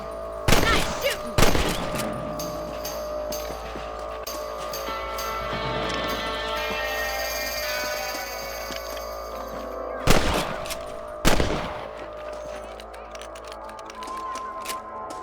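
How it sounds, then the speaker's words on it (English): Rifle gunfire in the video game Red Dead Redemption, with a few loud sharp shots near the start and a couple more later over ambient game sounds and background music. "Get your rifle out. It's about time these little thieves met their maker."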